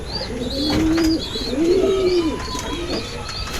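Close coos of a homing pigeon hen, two soft drawn-out calls followed by fainter cooing, with light chirps and background noise.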